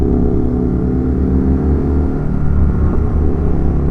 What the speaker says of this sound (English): the exhaust on this thing is ridiculous